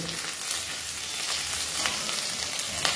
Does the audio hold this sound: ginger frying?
yes